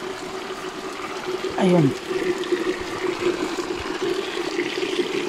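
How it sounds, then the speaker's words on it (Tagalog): A mountain stream at Batong Burlas in Sitio Kilat, San Gabriel, La Union, rushes in a constant moderate wash, while a voice speaks briefly over it. "Lakas ng tubig"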